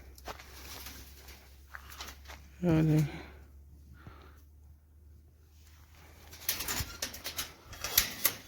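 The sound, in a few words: pigeons and chickens in coop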